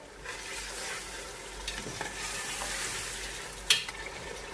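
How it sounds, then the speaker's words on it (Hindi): Spices and yogurt fry together in a pot for aloo gosht, a potato and meat curry, producing a soft, even sizzle with a couple of brief clicks near the end, no voices. "अब इन मसालों को भी इसके साथ ही भूनेंगे।"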